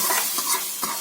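Curry leaves and mustard seeds sizzle in hot oil for a tempering being poured into a seema chintakaya (tamarind pod) stew, a steady close crackling hiss with faint stirring scrapes and no speech.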